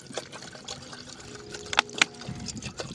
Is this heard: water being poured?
yes